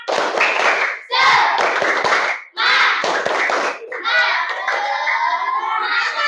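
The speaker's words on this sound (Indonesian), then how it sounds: "kita tepuk semangat dulu ya. Tepuk semangat." A class of children performs a rhythmic spirit clap, loud close bursts of patterned clapping separated by short pauses, with the kids chanting along in unison.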